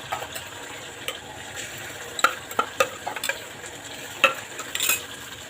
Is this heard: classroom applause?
no